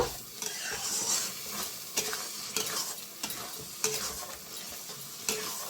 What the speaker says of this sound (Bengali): গ্যাসটা জোরে করে দিলাম। এবার আমি খুব সুন্দর করে মশলাটা কষাই নেব।